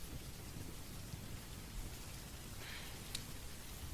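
Steady rain falls in a dense, even hiss, with a faint low rumble underneath and no voices.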